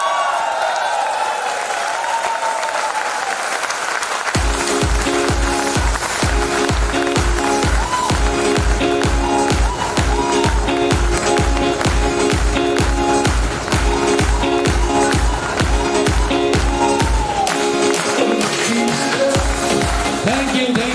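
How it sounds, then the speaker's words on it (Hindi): A crowd at a grand app launch event applauds in a dense wash of clapping, which soon continues under loud music with a steady pounding beat. "उन लोगों के लिए सर एक बार प्लीज सर खड़ा होके एक बार ताली दे दीजिए"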